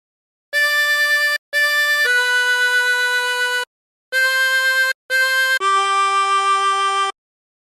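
A 16-hole tremolo harmonica plays the opening of Silent Night. Six clear, wavering notes form two matching three-note phrases, each ending on a longer, lower tone, played alone with no talk.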